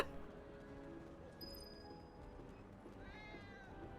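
A cat meows faintly in Final Fantasy VII Remake, the sound set against a steady bed of game music and ambience that runs through the whole stretch.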